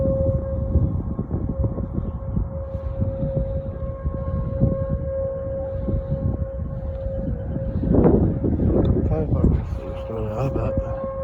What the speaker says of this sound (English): Here comes a round 2 of the tornado sirens.